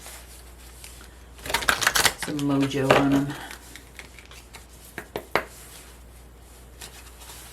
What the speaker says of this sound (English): so I'm just going to shuffle them again real quickly